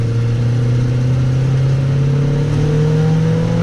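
A car's engine running steadily as it pulls away in drive, with a constant loud hum and a slowly rising tone, heard from inside the vehicle.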